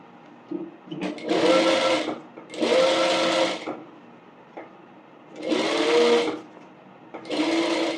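A sewing machine stitches a bonnet during a tailoring lesson, running in four distinct bursts of rapid whirring separated by short quiet pauses, close and clear.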